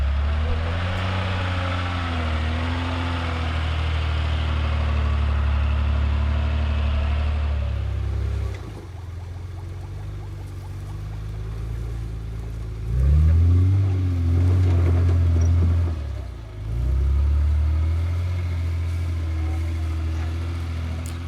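A Mercedes Geländewagen 4x4 engine labors over a sharp crest on an off-road course, droning steadily and loudly, then dipping and surging again as the throttle is worked.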